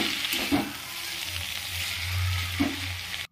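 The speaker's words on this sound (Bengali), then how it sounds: "এরপরে কেটে রাখা পালং শাকগুলো দিয়ে দিলাম, ভালো করে নেড়ে একটু ঢাকা দিয়ে দেবো।" Spinach and eggplant are stirred and fried in a pan, a close steady sizzle with two stirring scrapes and a low rumble midway, short and without speech.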